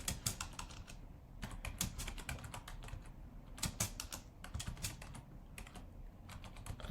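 Fast typing on a computer keyboard, close and clear, with bursts of rapid key clicks separated by short pauses, alone without talk.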